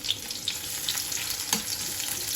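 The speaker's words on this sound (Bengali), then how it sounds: "তেলটা গরম হয়ে গেছে আমি পেঁয়াজটা দিয়ে দিলাম" Onion dropped into hot oil, a dense continuous sizzle with small sputtering pops over a couple of seconds, close and fairly loud.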